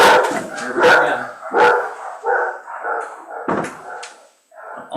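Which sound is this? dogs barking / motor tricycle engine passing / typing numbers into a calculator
dogs barking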